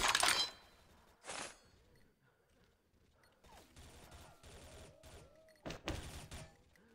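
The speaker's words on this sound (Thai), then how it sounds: "เสียงเพื่อนโดนยิงครับ" Gunfire in the online shooter XSHOT comes as a few sharp, fairly faint bursts spaced apart, with a quiet stretch between them and small clicks and game effects in the background.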